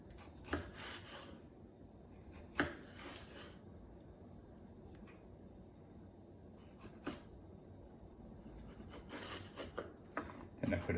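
A kitchen knife slices vegetables on a cutting board while making a bean salad, giving quiet scraping and rubbing with a few scattered sharp taps as the blade meets the board.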